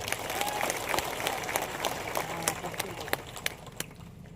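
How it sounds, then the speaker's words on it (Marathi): A crowd at a political campaign rally bursts into sustained applause, dense overlapping claps that stay loud and then thin out slightly toward the end. "एकदा जोरदार टाळ्या वाजवा त्यासाठी"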